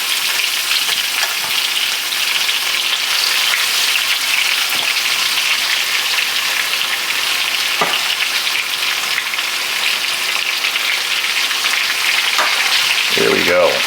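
Pork tenderloin browns in a small pan, a loud, continuous close-up sizzle like heavy rain, with a few faint knocks and a short burst of handling at the end.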